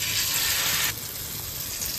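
Paneer pieces coated in a cornflour and egg batter fry in hot oil, giving a steady loud sizzle that drops slightly in level partway through and continues alone without talk.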